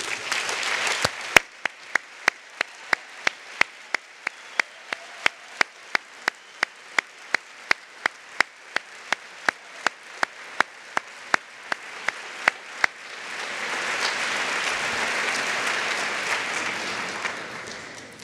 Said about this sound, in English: Henry, I'd like to give you a round of applause.